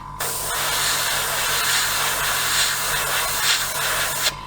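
Continuous spray from a Fengda FE-183K airbrush with a 0.5mm needle, a steady fine hiss that starts abruptly and cuts off after a few seconds, close and fairly loud.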